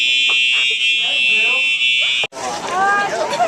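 A school fire alarm sounds during a fire drill on the last day of school, a loud continuous electronic tone that is briefly cut off and then resumes, with people talking and moving underneath.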